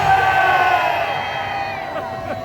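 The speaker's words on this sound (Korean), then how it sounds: "용산 윤석열 측근들은 이 함성을 들기나 들리느냐?" A large crowd at a Liberation Day rally at Gwanghwamun, Seoul, cheers and shouts loudly and continuously, with voices rising and falling across the crowd.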